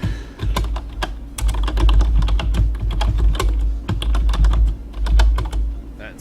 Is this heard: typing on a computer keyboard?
yes